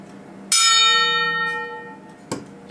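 A big antique electric bell with a copper clapper strikes once loudly and rings on with a long, shimmering decay, then gives a second, fainter strike near the end.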